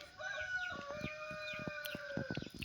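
Young northern Vietnamese jungle fowl, F2 and FX birds, crow and cluck close by in a short burst of sharp, overlapping calls.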